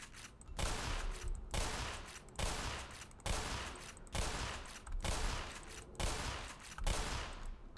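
Rapid bursts of gunfire in the video game Black Mesa, loud and dense, repeating in regular clusters roughly every second with brief gaps between volleys.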